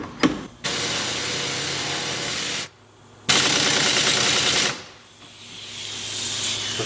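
A pneumatic impact gun hammers at a 1966 Triumph Spitfire hub during restoration, sounding in two long loud bursts of rattling, hissing air-tool noise separated by a brief pause, then fading into a quieter hiss.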